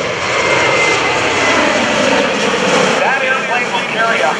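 A passenger airliner passes at an airshow, its jet engines a loud, sustained roar throughout, with a voice talking over it.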